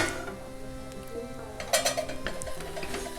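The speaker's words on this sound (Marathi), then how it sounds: "चांगला हा मसाला परतून घेऊया तेलामध्ये." Masala being sautéed in oil in a pan for a Konkan pus bhaji with jackfruit, metallic scraping and clinks of a spoon stirring against the pan over a low hum, with a burst of clatter midway.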